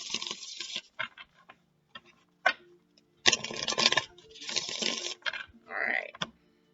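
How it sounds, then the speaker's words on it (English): Tarot cards being shuffled by hand, in several riffling bursts of dense papery clicking separated by brief pauses, close and fairly quiet. "one more shuffle, and then I'll cut."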